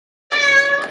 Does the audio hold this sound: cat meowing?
yes